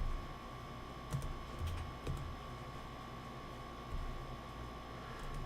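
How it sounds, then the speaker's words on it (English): Keys on a 1980 TRS-80 computer keyboard are struck in a few sparse, soft clicks, quiet and close, over a steady electronic hiss. "Right now I'm typing there."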